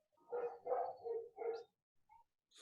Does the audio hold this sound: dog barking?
yes